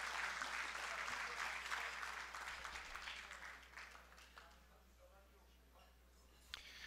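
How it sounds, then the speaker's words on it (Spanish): An audience at an award ceremony applauds loudly, a dense wash of clapping that gradually thins and fades over several seconds, with a few stray claps near the end. "un aplauso para Peter"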